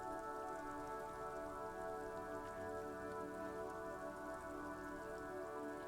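Steady rain ambience from the video game Disco Elysium, a dense, even hiss of rainfall with a constant tonal hum underneath, unbroken and without any speech.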